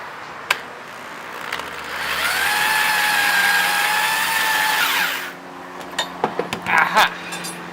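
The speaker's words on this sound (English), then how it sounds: "Drill first, ask questions later." A power drill whines steadily for a few seconds while drilling holes for wheels being made for a snowmobile, rising and then cutting off, followed by scattered knocks and clatter.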